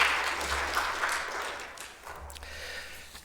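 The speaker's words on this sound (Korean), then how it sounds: "우리 찬양단 위에서 다시 한번 좀 뜨겁게 박수해 주시기 바랍니다." A church congregation claps for the worship team after a song, a moderate wash of applause that thins and fades toward the end.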